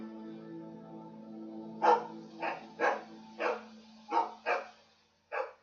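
A dog in The Walking Dead Season 2 video game barks in a run of about seven sharp, evenly spaced barks over a steady low hum, loud and close, with no talk.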